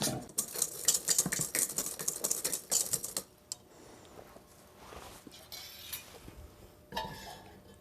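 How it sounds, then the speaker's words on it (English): Clarified butter being whisked into hollandaise sauce, with a quick run of clattering metal whisk strokes against a bowl at first, then quieter, sparser scraping and a few soft knocks. "We're going to go ahead and blend in our clarified butter and then go ahead and start to finish our sauce."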